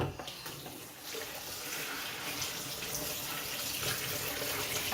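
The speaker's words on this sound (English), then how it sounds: "and now just rinse them over with cold water." Cold tap water runs steadily over freshly harvested shallots in a sink, a continuous close splashing rush of flowing water that holds throughout without talk.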